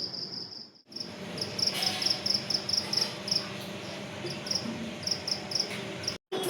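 Steady, rapid cricket chirps pulse in repeated bursts over a dense wash of night insect noise during rain, close and continuous, with a brief dropout near the end.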